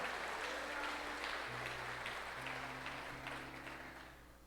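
Church congregation applauding during a sermon, a steady wash of clapping that fades slightly toward the end, with sustained organ or keyboard tones underneath.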